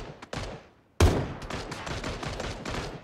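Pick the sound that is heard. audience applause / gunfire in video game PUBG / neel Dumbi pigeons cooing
gunfire in video game PUBG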